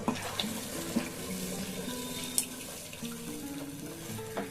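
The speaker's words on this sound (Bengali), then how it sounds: "পরিমাণ মতো একটুখানি জল দিয়ে দেবো, অল্প একটুখানি" A little water is poured into a hot cooking pan on a raised flame while making cauliflower kofta chili, giving a soft splashing and sizzling wash with a few clinks.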